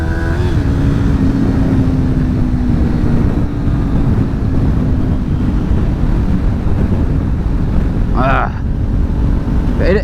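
Strong crosswind buffets the microphone while riding a Kawasaki Ninja 400 in gusty 20 mph winds, a loud continuous roar with the engine droning beneath, and a voice briefly heard near the end.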